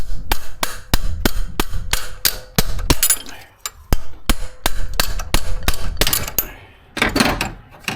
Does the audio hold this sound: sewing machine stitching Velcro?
no